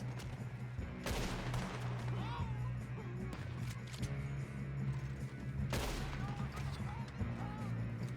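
Gunfire rattles in bursts during a big shootout in a Western cowboy-style action video game, with two sharp loud volleys over a constant rumble of game ambience and scattered voices.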